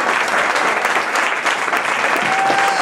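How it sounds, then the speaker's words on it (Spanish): A standing audience at a Music Day celebration for Santa Cecilia, patroness of musicians, gives a loud, close, continuous round of applause, a thick, steady clatter of many hands. "vamos a darnos un fuerte aplauso"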